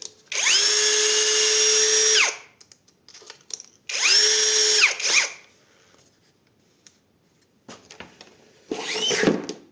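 A powerful cordless screwdriver drill spinning up in three bursts: two sustained high whines of about two seconds each, separated by brief clicks and handling noise, then a shorter final rev.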